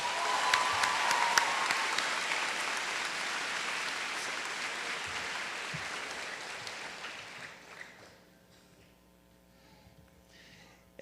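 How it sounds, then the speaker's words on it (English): Sustained audience applause fills a high school senior awards ceremony hall, steady and dense for about eight seconds before dropping off to near quiet with a few scattered claps. "Let's give them one more round of applause."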